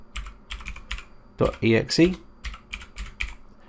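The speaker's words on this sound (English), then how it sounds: "Just go back into the value box here and type in some others that you want to do." Fingers tap quick bursts of keystrokes on a computer keyboard, close and crisp, with someone talking briefly in the middle.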